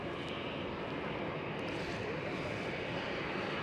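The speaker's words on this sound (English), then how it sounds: "That's the big police helicopter." An AgustaWestland AW139 police helicopter passes right overhead near Schiphol airport, a steady, fairly faint broadband engine roar that holds constant throughout.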